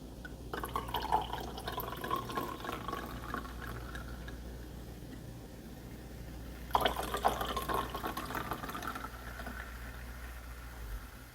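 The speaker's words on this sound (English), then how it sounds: "top it up with the Prosecco or your sparkling wine" Prosecco sparkling wine pours into a cranberry mimosa in a glass, a soft liquid trickle and fizz running throughout, rising briefly to a louder splash and bubbling near the middle, close and alone.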